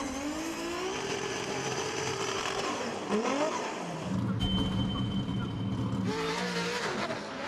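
A 630 brake horsepower Nissan 180SX drift car at the FIA Intercontinental Drifting Cup, its engine revving hard and rising and falling in pitch, with a short pause before it roars up again.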